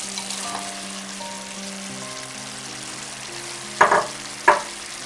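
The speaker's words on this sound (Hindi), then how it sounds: "अब हम इसमें प्याज डाल देंगे।" Onions fry in a pan with mutton for mutton kadai. A steady sizzle with a faint hum carries the whole stretch, and two sharp louder bursts near the end suggest stirring or tossing.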